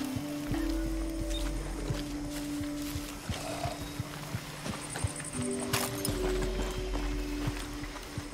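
A horse ridden in the Far Cry 6 video game clip-clops at a steady pace under a constant low game soundtrack, with short effects breaking in midway.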